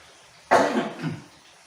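A single sharp cough, close and fairly loud, with a short rough tail trailing off into quiet.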